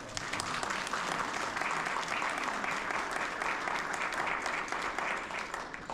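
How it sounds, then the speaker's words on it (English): A room of people at a book circle kickoff and author Q&A claps for the speaker, producing dense, steady applause at a moderate distance that holds evenly from start to finish. "So I had a great round of"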